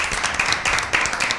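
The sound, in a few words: applause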